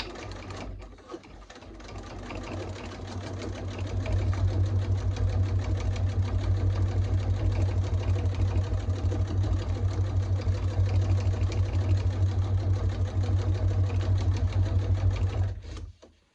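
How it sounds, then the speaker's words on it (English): A sewing machine stitches at its longest stitch length. It starts with a few slow thumps and then settles into a steady, loud mechanical whir with rapid rhythmic needle clatter before stopping abruptly. "I have my machine settings at its longest stitch length."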